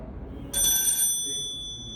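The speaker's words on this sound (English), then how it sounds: "This is a bell sound." A firefighter's SCBA breathing apparatus cylinder warning bell sounds once as the valve opens, giving a sharp metallic ring that starts suddenly, then decays slowly and stays clear over quiet background.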